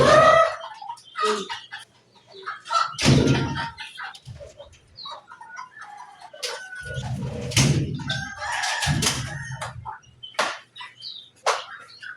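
Chickens clucking and squawking close by, with a rooster crowing amid bursts of flapping and scratching, loud and irregular.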